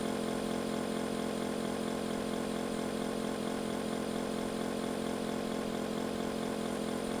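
Motorbike engine from the ride-hailing driver game Ojol The Game, a steady droning whine held at even loudness throughout, with no break in the tone and no talking over it.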